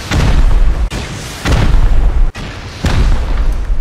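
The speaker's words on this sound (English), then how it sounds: "One more rocket." Three heavy rocket explosions boom in the game Rust, each a loud low blast with a rumbling tail, spaced about a second apart.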